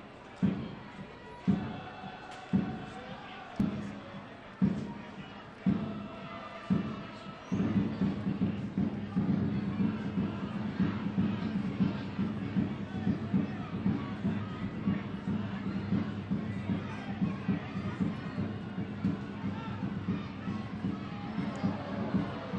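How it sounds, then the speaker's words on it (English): Crowd noise fills a soccer stadium at Cheney Stadium during a Seattle Sounders FC match against Colorado Springs Switchbacks FC, with several sharp rhythmic claps or thumps early on, then a steady rumbling crowd roar with rhythmic pulses that carries on throughout. "Diaz's goal has certainly energized the crowd here at Cheney Stadium."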